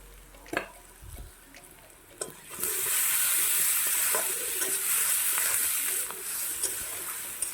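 Pieces of a roughly three-kilogram rohu fish, seasoned with turmeric and salt, fry lightly in a pan: a few utensil knocks, then a loud steady sizzle that surges in and holds, dipping slightly near the end.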